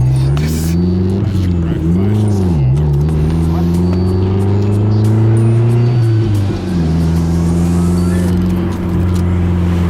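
Steady car engine drone with gear changes and slight revving as a vehicle with tinted windows cruises through a residential neighborhood, recorded from inside at close range.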